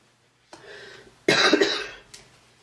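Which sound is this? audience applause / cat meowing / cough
cough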